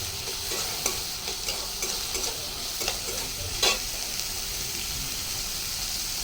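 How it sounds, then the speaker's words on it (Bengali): Carrots and other vegetables fry gently in a pan for fried rice, a steady low sizzle with a few light spatula taps and one brighter scrape, close by and without any voices. "দুটো একসাথে ভেজে নিচ্ছি আস্তে আস্তে।"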